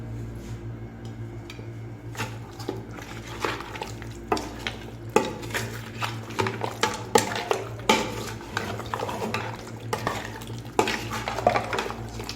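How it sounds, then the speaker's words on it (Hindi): Salted meat being stir-fried in a pot, with repeated scraping and clinking of a utensil against the metal over a steady low sizzle, close and moderately loud, with no talking. "ये हमारा नमकीन गोश्त है, तो अभी हमने इसको भून लेना है।"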